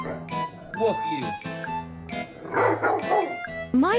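A dog barks and yips in short, irregular bursts close by, mixed with whimpering tones, while a person talks over and between the barks.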